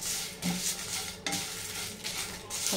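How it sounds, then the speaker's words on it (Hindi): Whole spices for biryani masala, including green cardamom, shahjeera, cumin and mace, dry roasting in a pan, heard as a close continuous rustling hiss with light scraping as the spoon moves them. "ये सारी चीज़ों को हल्का गर्म होने देंगे"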